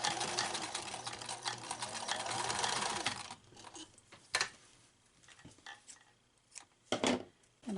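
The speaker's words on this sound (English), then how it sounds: "Do the top row of stitching." A sewing machine stitches the top row of a fabric canopy for a doll bed, a rapid close whirring run for about three seconds, then stops, followed by soft handling clicks and rustles.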